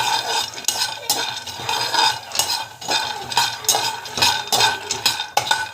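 A utensil scrapes and stirs rhythmically through nuts frying in a pan, with a steady sizzle underneath and repeated sharp scraping strokes.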